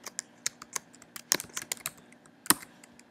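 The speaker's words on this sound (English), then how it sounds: "you'll type in Wright State, type in your name" Keys clack on a computer keyboard in short, irregular bursts of close, crisp taps, with a few louder strikes standing out and no talking.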